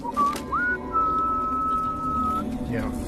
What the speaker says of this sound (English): Yeah, whistle me a tune.